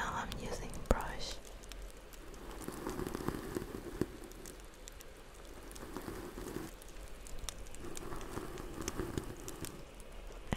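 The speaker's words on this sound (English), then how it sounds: "So right now I'm using brush." Soft, close brushing strokes on a microphone's right side in a quiet ASMR session, repeated swishing bursts with a faint rustle between them.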